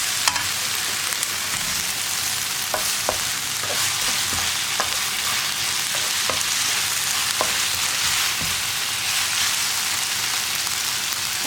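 Tomato sauce is stirred into a hot frying pan, giving a loud, dense sizzle that runs throughout with occasional scraping clicks from the spoon.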